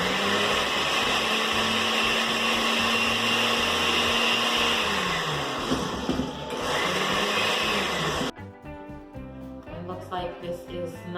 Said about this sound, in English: I'm just going to add just enough water so I can get my blender going.